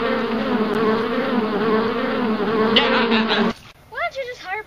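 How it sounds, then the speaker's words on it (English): Bees buzz loudly and steadily in a dense drone beneath a porch in a video game, then the hum cuts off abruptly into brief rising whistles and short sounds. "I'm gonna go take care of a bee problem underneath the porch."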